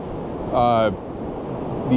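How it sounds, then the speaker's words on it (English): Ocean surf breaks on an Oregon beach at Seaside, a steady roar of waves and wind close to the microphone. A brief voiced tone rises in the middle. "You get these larger waves that will come in and go way over your head."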